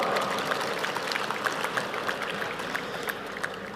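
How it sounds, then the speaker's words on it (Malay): Congress audience at a Malaysian party's special national congress gives sustained applause, a moderately loud, even bed of many hands clapping, with no talk over it. "Satu tepukan gemuruh untuk tuan-tuan dan puan-puan."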